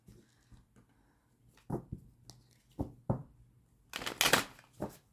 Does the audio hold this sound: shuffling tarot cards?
yes